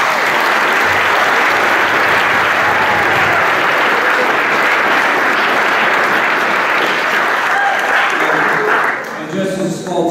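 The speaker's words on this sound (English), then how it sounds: "Let's give a round of applause." An athletic awards ceremony audience at a school applauds the team captains, dense sustained clapping filling the room for several seconds before thinning out near the end.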